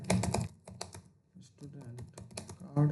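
Keys clatter on a computer keyboard in quick bursts of typing with short pauses between them. The typing is close and fairly crisp, and someone speaks softly underneath at times.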